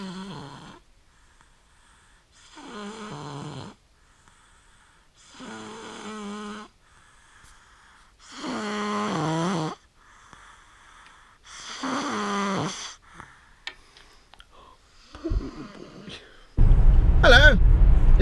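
A baby snores in a slow regular rhythm, about six raspy drawn-out breaths close by with quiet gaps between, followed by a sudden loud rustle at the end.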